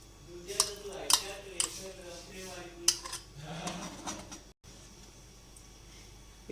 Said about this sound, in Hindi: इसको अच्छी तरह चम्मच चलाते रहना है